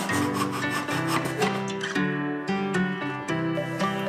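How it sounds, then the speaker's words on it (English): A hand saw worked in a miter box cuts through MDF with steady back-and-forth rasping strokes, close and continuous, with a rhythmic rub of about two strokes per second. "we're just going to use the miter box to cut this down because this is MDF"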